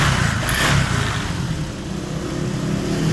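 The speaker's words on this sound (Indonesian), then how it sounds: "Udah nyala motornya." A Honda Vario 125 scooter engine, recently fixed from a shorted 12-volt fuel-injection wire, runs close by. A brief rev at the start settles into a steady running hum.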